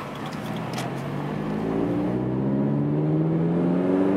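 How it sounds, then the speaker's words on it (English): A Scion FR-S with a catless front pipe exhaust revs up, its engine note rising steadily from a low rumble to a louder droning tone, close and without talking. "Yeah, I like the exhaust sound. Sounds good."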